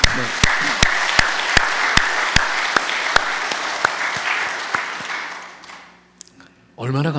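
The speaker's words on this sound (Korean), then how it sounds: "우리 한번 이분들에게 한번 큰 박수를 한번." Church congregation applauding during a Sunday worship service, with a few loud, evenly spaced claps standing out over a softer wash of clapping that thins out and fades, followed by a brief voice at the end.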